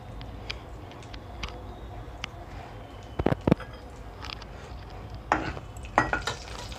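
Ghee heating in a pan with cumin and mustard seeds for tempering, a soft low sizzle under sparse metallic clinks and a few sharp spoon-on-pan knocks.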